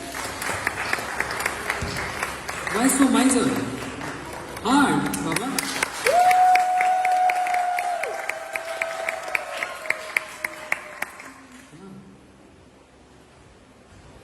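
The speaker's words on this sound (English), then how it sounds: "Everyone clap for yourselves." Audience at an evening retreat session in Belgium bursts into applause, a dense crowd clapping that swells twice and gradually thins to scattered claps, while someone speaks over it and a sustained tone rings out in the middle.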